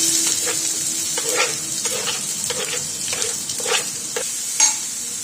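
Urad dal, chana dal, onion and green chillies fry in oil with a steady bright sizzle, broken by repeated scraping stirs of a spoon against the pan, close up and without talk.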